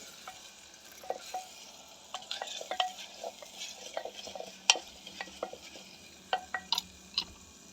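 Ground green chilies fry in a hot oil tempering on a wood-fired stove, a quiet sizzle punctuated by irregular clinks and scrapes of a spoon against the pot.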